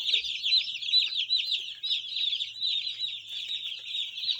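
Newly arrived baby chicks peep continuously in a dense, overlapping chorus of high chirps, steady and close with no pauses.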